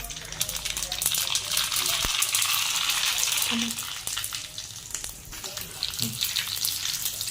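Cumin and mustard seeds crackle and sizzle in about two spoonfuls of hot oil for an idli tadka, a close, steady frying hiss with faint pops.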